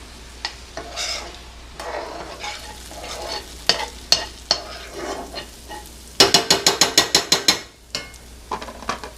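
Onions frying and caramelizing in a pan, with a soft sizzle broken by repeated scraping stirs and a quick burst of about ten rhythmic utensil taps against the pan near the end.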